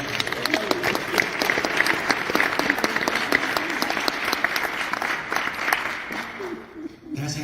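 Sustained applause from an audience at a city meeting in Flint, dense steady clapping filling the whole stretch before tapering near the end.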